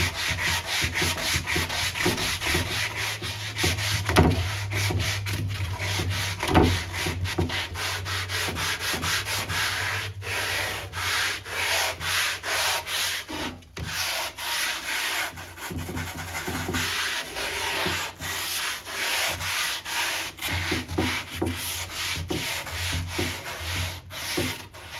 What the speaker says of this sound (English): So sand with the grain that way, okay?